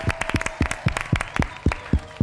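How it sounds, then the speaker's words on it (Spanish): A small group claps for a couple of seconds, the claps uneven and somewhat sparse, heard close and fairly quiet. "Un aplauso para Freddy."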